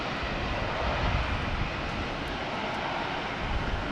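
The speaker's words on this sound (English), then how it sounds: "there is a plane coming in on the international runway" A plane coming in to land on the international runway at Brisbane Airport, a loud, steady, broad engine roar that fills the whole stretch without pausing, with no voices heard.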